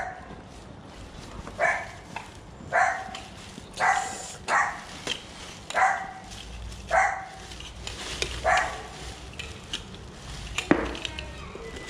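A dog barks repeatedly at a fairly steady pace, about nine loud nearby barks spaced a second or so apart, with a sharper clatter near the end.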